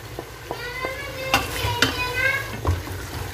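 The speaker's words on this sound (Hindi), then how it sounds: "थोड़ा सा फ्राई करेंगे हम।" Masala spices for mutton nehari stirred and frying in a pan, with soft sizzling and scattered clinks of a spoon against the metal, close by and moderately loud.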